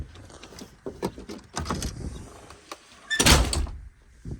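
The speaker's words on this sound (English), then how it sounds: "And you're going to hear that step go in." A 2001 Monaco motorcoach entry door swings shut with a solid thump and clatter, followed by a short whirring mechanical rush as the entry step retracts, close by with no talking.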